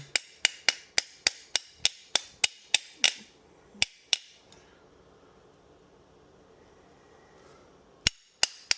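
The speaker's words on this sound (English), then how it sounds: "same thing, hammer, beat it in" Sharp metallic hammer strikes in a steady rapid run, driving a part into a forced reset trigger, then a pause with two isolated blows, and a few more hits at the end.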